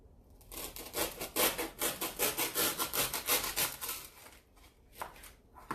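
A blade cuts the corner of a block of foam wrapped in cellophane with a quick, close run of rhythmic rasping strokes that trail off into a few scattered rubs.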